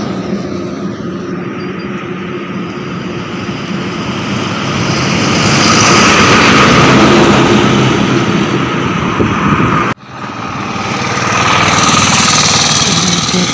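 A vehicle engine rumbles loudly along a road, swelling as it passes close by, then fading, then building again as another vehicle approaches, with no talk.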